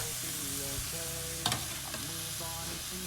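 Chicken stir-fried with red curry paste and bamboo shoots in a pan gives a steady, close frying sizzle, with a sharp spatula scrape near the middle, over soft background music.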